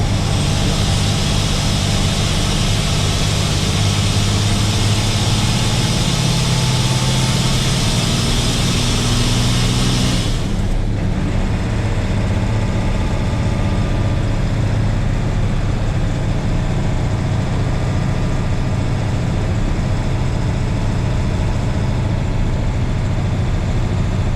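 International 4700 truck engine pulling up a hill, a loud continuous rumbling drone heard from inside the cab, with a sudden change in tone about halfway through.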